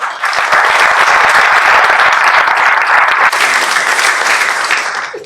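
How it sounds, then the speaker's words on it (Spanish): Loud, sustained audience applause fills a festival hall as the French consul is called to the stage, dense steady clapping throughout with no talk over it. "Un fuerte aplauso para ella."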